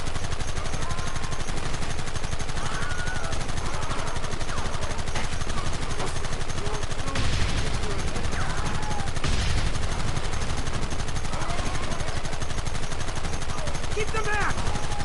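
Dense, loud, continuous gunfire from the video game Red Dead Redemption, rapid bursts and single shots overlapping without pause, with heavier blasts near the middle and shouting voices mixed in.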